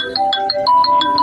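A mobile phone ringtone plays a short, bright electronic melody of quick repeated notes, loud and close, with no voices over it.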